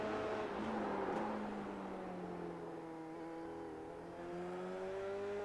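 A race car in an SCCA Pro Formula Regional Americas race screams along the track, its engine pitch sliding down and rising again through gear changes, loud and continuous with no talk.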